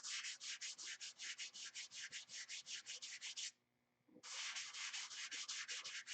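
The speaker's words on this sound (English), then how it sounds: "right here I'm sanding, and I can see shiny spots." Steady back-and-forth hand sanding on an airplane's surface, about twenty rhythmic rasping strokes, a brief pause, then the strokes resume, close and fairly loud.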